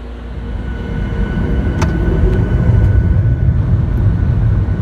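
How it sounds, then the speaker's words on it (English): An airliner accelerates down the runway at JFK for takeoff, its engines giving a steady, loud, broad roar with rumbling cabin noise that swells slightly as speed builds, plus a few faint clicks and rattles. "We're going to be taking off shortly. Picking up some speed."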